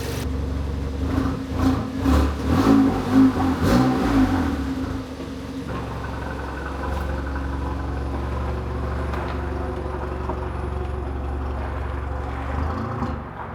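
A damaged, cheaply bought Audi engine runs with a slight sputter. The idle is uneven and pulsing at first with a few revs, then settles into a steady, moderately loud running drone up close.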